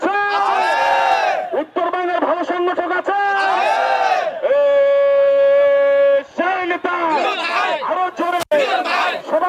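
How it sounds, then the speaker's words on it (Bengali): A rally crowd at a youth political organisation's anniversary event chants in loud, sustained unison bursts, with short pauses and a held tone in the middle. "ইতিমধ্যে মিছিলে মিছিলে প্রাণবন্ত হয়ে উঠছে আজকের এই বর্ণাঢ্য র্যালির অনুষ্ঠান"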